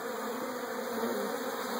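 Bees buzzing densely around an opened hive, a continuous close, loud droning hum with no pauses and no voices.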